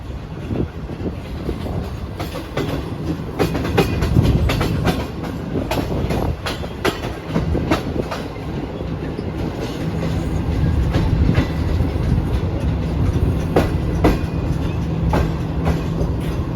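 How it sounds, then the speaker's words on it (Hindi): A passenger train rolls past a station platform on a Karachi to Lahore line, a loud, close, continuous rumble with rhythmic clickety-clack of wheels over rail joints lasting throughout. "ट्रेन के क्रॉस के लिए तो मैं यहीं पे रुका हुआ हूँ"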